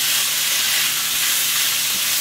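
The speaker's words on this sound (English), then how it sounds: "And I'm going to stir it all up so that everything is mixed nicely." Chicken and biscuits mixture being stirred in a hot pan, giving a steady, close sizzling hiss with soft scraping underneath, continuous and fairly loud throughout.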